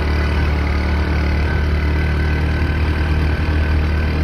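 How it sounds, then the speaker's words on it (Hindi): A 150cc motorbike engine labours steadily up a steep hill, a continuous loud mid-to-low drone with no pauses. "वन फिफ्टी बाइक है हमारी"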